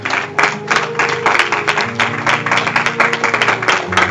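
A church congregation claps together in praise of the Lord, steady rhythmic applause with some cheering voices, loud and close for a few seconds.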